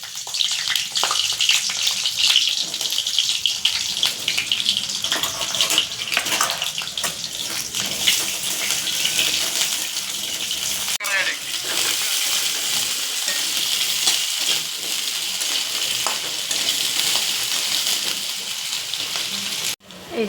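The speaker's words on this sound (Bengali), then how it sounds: "আগে পটলটা ভালো করে ভেজে নেব।" Potato and pointed gourd fry in a pan for Bengali fish roe curry, a steady loud hiss and sizzle running without pause, with occasional stirring scrapes.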